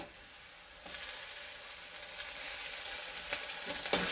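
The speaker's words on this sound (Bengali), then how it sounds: "একটুখানি ভেজে নিই এটা" Crushed garlic and chilli hit a pan of fried onions, starting a close, steady hiss of frying that rises suddenly and continues with occasional stirring clatters, no voices.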